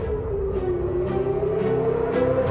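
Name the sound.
air raid sirens wailing across an Israeli city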